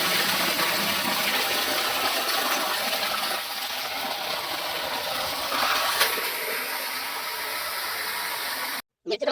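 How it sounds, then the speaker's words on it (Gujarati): Water gushes from the outlet of a silver electric motor pump, a loud, steady rushing roar like a waterfall that dips briefly midway and cuts off abruptly near the end. "તમારે પાણી જોવું છે ને સાંભળવું છે કેટલું પડે"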